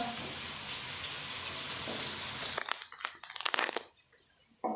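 Steady, loud sizzling of onions frying in a pan, then the hiss thins out into crackles and scraping stirs near the end.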